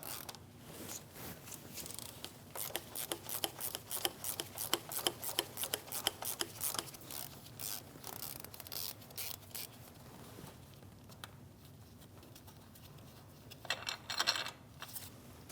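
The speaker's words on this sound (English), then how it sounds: "I'm going to use an extension with a ratchet and an 18 millimeter socket. We'll really loosen this up now." Ratchet on an extension with an 18 mm socket loosening a lower engine mount bolt on a 2016-2025 Chevrolet Malibu 1.5L L4, a fast run of close, crisp clicks through the first ten seconds, then quiet, then a brief second burst of clicking.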